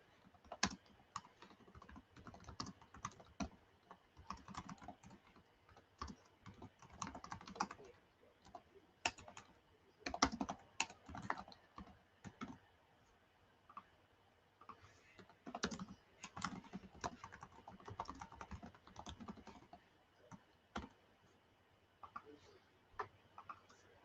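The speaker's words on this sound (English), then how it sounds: "I'm just typing in the code to join my FPL." Typing on a computer keyboard during a live football watch-along stream, steady bursts of fairly faint clicky keystrokes with irregular pauses, continuing for the whole stretch with no talk over it.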